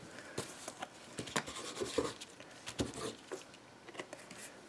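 A brush dabs and strokes gesso onto cards, making quiet, irregular scratchy swishes close by.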